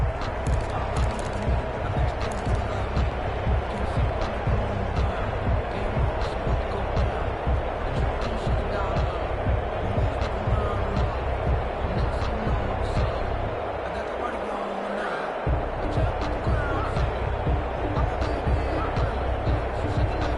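Stadium crowd noise in an American football video game, a constant loud roar from a home crowd with rhythmic stomping or thumping beats running through it, under a commentator talking, with a brief dip near the end.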